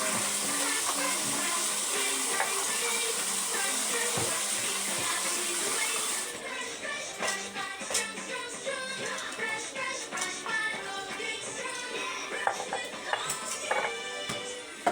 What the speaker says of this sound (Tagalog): patay mo nga tubig